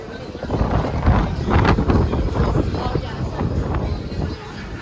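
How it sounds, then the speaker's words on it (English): Strong wind buffets the microphone on the open deck of a cruise ship at sea, a steady loud roaring rush with gusty surges throughout. "The wind's blowing so hard, I don't even know if you guys can hear me."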